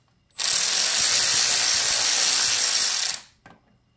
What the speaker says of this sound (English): We have our 6mm Allen on the ratchet.